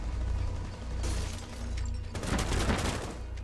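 Gunfire in the tactical shooter Rainbow Six, with bursts of shots and mechanical clicks crackling over a low rumble, fairly quiet overall and growing denser in the second half.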